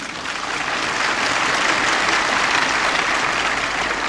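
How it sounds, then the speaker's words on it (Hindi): Dense applause from a large audience at a Hindi public address on caste and Buddhist conduct, steady and loud throughout with no break. "ये ताली आपने मेरे लिए बजाई है"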